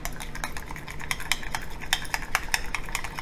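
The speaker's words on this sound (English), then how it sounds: "Kind of mix this up" A utensil works hot sauce, ketchup, salt, pepper and Cajun seasoning together in a bowl, giving a quick irregular run of sharp clicks and taps against the bowl, close up, with no voices.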